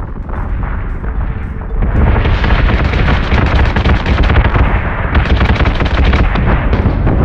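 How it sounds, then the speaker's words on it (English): Space battleship gun batteries fire in the game Battlestar Galactica Deadlock, a dense, loud, continuous barrage of booming shots and blasts that grows heavier after the opening seconds. "Full attack mode. Fire at will."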